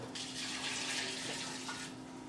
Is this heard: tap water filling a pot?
yes